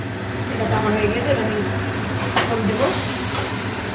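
Elephant foot yam pieces sizzle steadily in a hot pan and get stirred, with a loud continuous frying hiss, a few scraping bursts and a voice talking over it.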